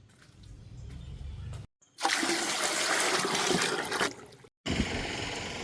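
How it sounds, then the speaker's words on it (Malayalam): Water is poured into a bucket for handwashing, a loud, steady rushing splash that runs for a few seconds, breaks off briefly, then starts again, after a quieter stretch of trickling. "ഇതൊന്ന് മുക്കും, അവിടെ കൈ കഴുകാൻ ബക്കറ്റിൽ ഒഴിച്ച് വെക്കും"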